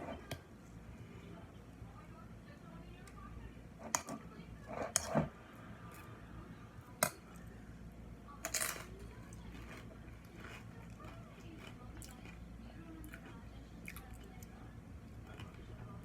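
Corn chips dipped in a homemade dip are bitten and chewed close to the mic, a few sharp crunches and soft squishy munching sounds scattered over a quiet room background.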